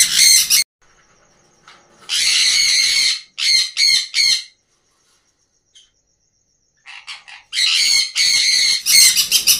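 A handtame pet bird that has fallen ill calls in harsh, raspy bursts, some in quick rapid runs, with silent pauses between them, close and loud with no talk.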